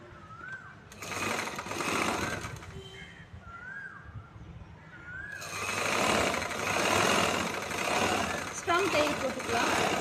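Sewing machine stitching the shoulder seam of a chudithar, a second line of stitches run on the inner side; the machine whirs in two long bursts, moderately loud and close, with birds chirping faintly between them.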